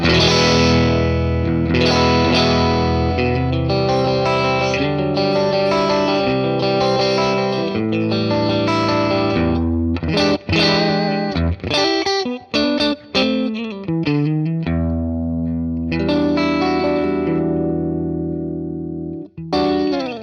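Electric guitar played through an Axe-Fx III amp modeler with heavy effects, jangly sustained chords on neck and middle pickups with chorus-like shimmer and distortion, loud and continuous, with a few choppy pauses in the middle.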